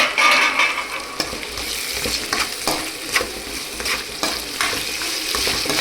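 Tomatoes sizzle and fry in a hot pan for a Gujarati pova kachori filling, with steady loud crackling and occasional stirring scrapes throughout, no voices.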